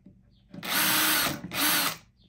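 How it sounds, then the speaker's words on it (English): Power drill boring small pilot holes for hinge screws on a wooden fairground high striker, two loud whirring bursts in quick succession, close up with no talk. "just drill a little pilot hole in each of the holes where we've marked"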